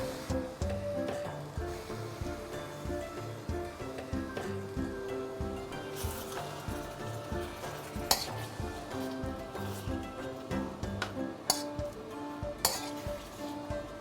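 Lemongrass and blended chili fry and get stirred in a pan for lemongrass chicken, with steady sizzling beneath repeated spatula scrapes and clinks against the metal, close and continuous.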